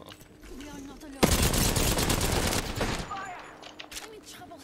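A Peacekeeper shotgun fires one loud blast in Apex Legends gameplay, a sudden burst that decays over about two seconds, with players talking faintly before and after.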